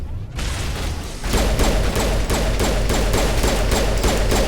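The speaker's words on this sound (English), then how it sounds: "Stop shooting at me, team." Rapid gunfire from a Mass Effect firefight, loud dense bursts of shots cracking in quick succession over a steady rumbling bed, close and continuous with no talking.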